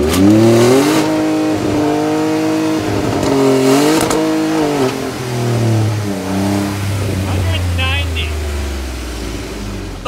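A Ford F150 truck engine with a new muffler revs repeatedly in strong pulses, its pitch climbing and dropping, then settles into a long low drone, with occasional voices over the loud engine.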